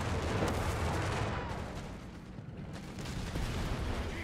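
Tank opening volley in Company of Heroes 3, a dense roar of battlefield gunfire and booming shots that dips briefly mid-way before surging back, loud and continuous.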